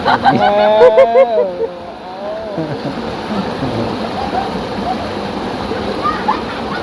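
Water scooped and poured for bathing at a rural forest home without running water; a voice speaks first, then a steady splashing, rushing pour continues close by.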